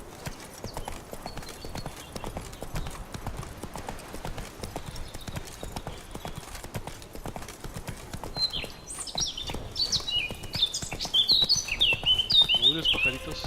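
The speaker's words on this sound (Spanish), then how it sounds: "Uy, los pajaritos." Birdsong in The Witcher 3 game world, bright chirps and trills rising over steady horse hoof clip-clop in the second half, fairly close and lively.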